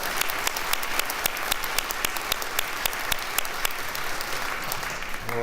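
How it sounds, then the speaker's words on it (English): An audience applauds student laureates at a convocation ceremony in Illinois, with steady hand-clapping held at a moderate level throughout and a few individual claps standing out sharply. "One more round of applause for our laureate"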